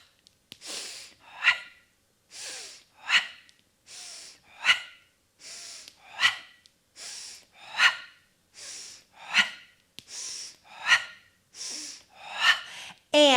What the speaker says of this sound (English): Just pump the breath.